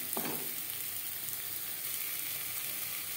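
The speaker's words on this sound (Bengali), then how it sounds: "মশলার সাথে আলু আরও 3-4 মিনিট নাড়াচাড়া করে দেব।" Boiled, diced potatoes fry with spices in hot oil, a steady soft sizzle with a brief stirring scrape near the start.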